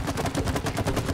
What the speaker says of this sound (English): Can I shoot that?